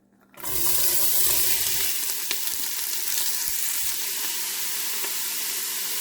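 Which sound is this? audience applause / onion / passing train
onion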